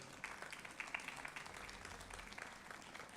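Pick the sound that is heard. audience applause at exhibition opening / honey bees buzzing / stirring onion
audience applause at exhibition opening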